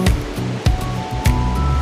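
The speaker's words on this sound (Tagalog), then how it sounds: "So kahit frozen yung paligid, yung ilog is patuloy pa rin ang pag-agos." A river keeps flowing through frozen, snowy surroundings in the Tatra Mountains, a loud, steady rush of water close by with a few low thumps and a faint tonal hum, and no voices.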